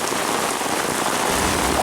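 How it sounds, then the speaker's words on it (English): Heavy summer rain pouring down over a vegetable garden, a dense, steady hiss of drops drumming on surfaces, loud and unbroken throughout. "And a pouring down, drenching rain at that."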